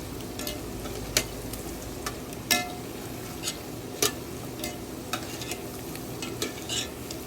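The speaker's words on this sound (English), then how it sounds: "As I'm frying it, I'll keep turning it so it doesn't get burnt, and until I achieve a light brown color." Chin chin dough frying in hot oil with a steady crackling sizzle, while a spoon stirs and turns the pieces, making sharp clinks against the pan at irregular intervals.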